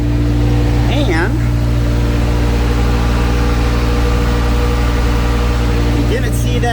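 Cummins 8,000 watt generator running under the front hood of a 2015 Fleetwood Expedition 38S RV, giving a steady, loud, low-pitched mechanical drone with a constant hum, and brief speech near the start and end.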